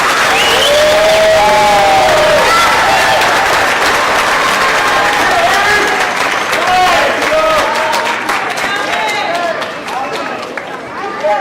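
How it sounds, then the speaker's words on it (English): An audience at an elementary school winter concert claps and cheers after a performance, a loud, sustained ovation with children's excited voices and chatter woven through before it tapers off. "Please give them one more round of applause."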